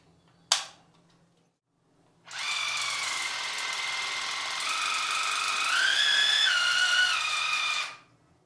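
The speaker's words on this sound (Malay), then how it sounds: "Sekarang saya nak demonstrate cara kita isi air dan kita lihat kekuatan pacutan water floss" A Waterpulse V400Plus water flosser clicks on, then its pump runs with a steady, whining buzz for several seconds, rising slightly in pitch before cutting off.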